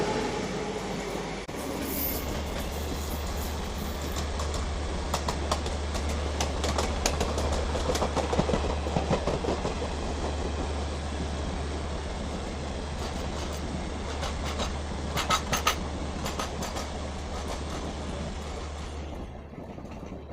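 The Secunderabad to Sirpur Kaghaznagar Intercity Express, train 12757, running with a continuous low rumble, wheel clatter and occasional faint squeals heard from on board, steady throughout with no talking.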